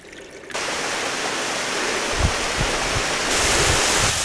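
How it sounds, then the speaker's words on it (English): A small waterfall beside a mountain path in the Lake District fells, a steady loud rush of falling water close by, with faint low bumps and some wind on the microphone. "Just a matter of 2 or 3 yards away, this is a little waterfall."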